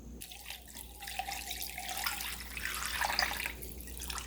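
Water pours steadily from a tap into a slow cooker holding chicken feet for bone broth, a continuous soft splashing and gurgling stream that rises and falls in pitch as the pot fills, quiet and close.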